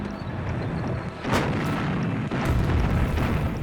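Heavy artillery bombardment recreating Soviet guns opening the Stalingrad offensive, with a rumbling roar, a sharp nearby blast and then a louder, denser barrage of booms.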